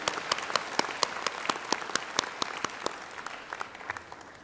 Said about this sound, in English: will you please join me in a round of applause for these wonderful women?